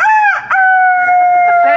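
Rooster crowing loudly and close, one long drawn-out cock-a-doodle-doo with a brief break near the start, heard at an outdoor night cricket match.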